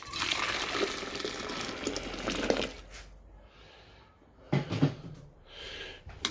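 Water poured into a container of refined gold powder from 9 karat jewellery for a second wash, a gushing splash for a few seconds, then quiet with a brief second slosh.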